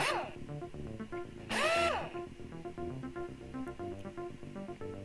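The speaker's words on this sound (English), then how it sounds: "Use the old trusty screwdriver." A screwdriver drives screws while the plastic case of a Commodore 64 breadbin is reassembled, with one short, sharp whirring burst standing out over a steady bed of background music.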